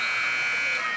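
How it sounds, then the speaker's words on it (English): A basketball game buzzer at a high school matchup, Genoa at Lake, sounds as one loud, steady electronic tone held for about a second. "Right now we're at the buzzer."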